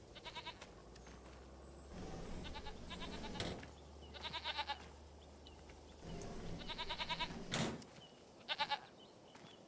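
Goats in a Farming Simulator 25 farm bleat in short repeated bursts, several calls spaced across the stretch, over a low steady background hum; one louder call stands out near the end.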